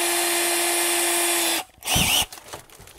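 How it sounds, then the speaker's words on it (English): A power drill whirs steadily, boring a pilot hole in van wall paneling over Thinsulate insulation, then cuts out, followed by a short burst of drilling and scattered handling clatter, close and loud. "All right, now the rest I can just drill,"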